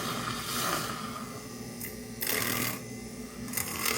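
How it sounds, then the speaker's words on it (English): A handheld frother whirs in a cup of Javvy coffee, a close, steady buzzing drone with brief surges of louder frothing. "We're gonna try and see how it froths, just like with my handheld frother."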